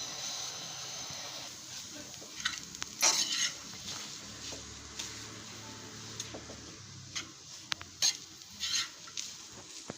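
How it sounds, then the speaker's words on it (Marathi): Cooked potato being mashed in a pan for idli vada, soft close scraping and tapping of a utensil against the pan in irregular bursts, with faint background kitchen noise. "आणि आता हा बटाटा आपल्याला असा बारीक करून घ्यायचा आहे"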